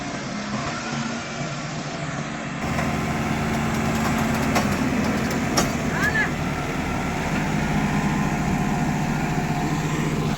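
Kubota and John Deere tractor engines drone loudly and continuously in a tug of war, the roar growing heavier after a couple of seconds, with voices faintly underneath.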